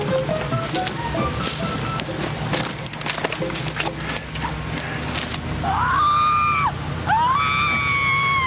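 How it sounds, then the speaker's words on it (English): A busy, noisy mix gives way to high, wavering screams that rise and fall twice, loud and somewhat hollow, as if played back through a speaker. "Listen to those screams."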